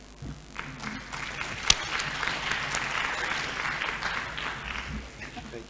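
An audience applauds steadily at the IGF 2022 opening ceremony, a sustained dense clapping from a large room that holds at an even level throughout.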